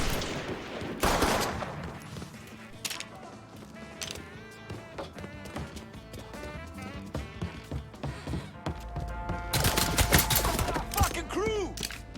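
Scattered gunshots and clattering impacts in the open-world crime game Mafia III, with sharp cracks throughout and a denser, louder volley near the end amid game ambience and voices.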